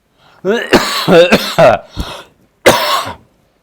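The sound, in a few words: cough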